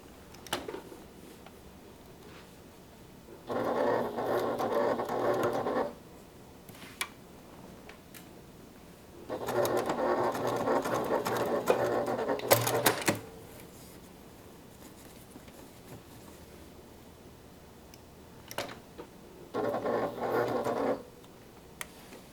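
A sewing machine stitches along the seam allowance in three separate runs of steady whirring, each a few seconds long, with quiet pauses between them.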